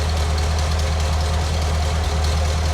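A rebuilt Flathead V8 runs at a steady idle, a loud continuous low rumble with an even pulsing beat and slight knock, close up and with no voices.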